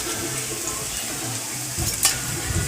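Onion snacks frying in hot oil give a steady sizzle, with a ladle stirring and scraping through the pan and a sharper clink near the end.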